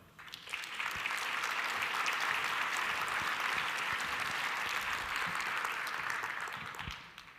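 Audience applause welcoming panelist Paul Francisco at a panel event, a steady, dense round of clapping from a crowd that swells quickly, holds for several seconds and tapers off at the end.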